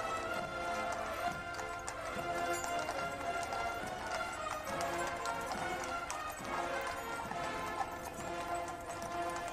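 Steady clip-clopping of horse hooves at a state funeral procession, a busy rhythmic clatter over a dense, continuous background of noise and voices, moderately loud throughout.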